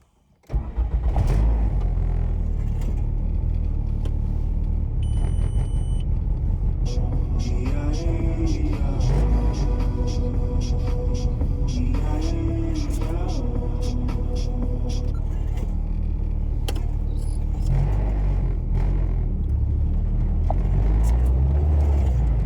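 Interior of a Citi Golf 1.8T turbo hatchback driving on the road with stiff, bouncy suspension, its engine droning steadily and loud throughout with road rumble, rattles and occasional revving.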